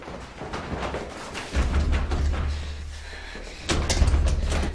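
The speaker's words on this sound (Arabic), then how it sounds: "فادية قفلت الباب وأخذت المفتاح معها" A door closes with a heavy thud, followed a couple of seconds later by another solid knock-like clunk as it is locked, set against a muffled indoor room hum.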